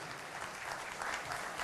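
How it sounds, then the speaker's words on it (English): An audience at a product launch event applauds, a short, dense, even wash of many hands clapping at moderate volume without a break. "A big round of applause for working tirelessly to pull off such an incredible,"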